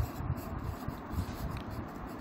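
Pen or pencil writing by hand on paper makes soft, close scratching and rubbing strokes in a brief, quiet burst without speech.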